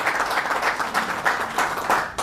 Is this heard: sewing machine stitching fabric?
no